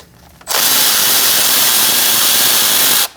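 A power tool with an E10 socket spins a bolt out on a 2008-2014 Mercedes-Benz C300 3.0L V6, making one loud, steady whirring burst of about two and a half seconds.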